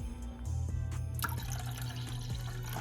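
Plant-based milk is poured into a pot for lion's mane hot chocolate, a continuous soft liquid stream running steadily for about three seconds, quiet and close, with no talking.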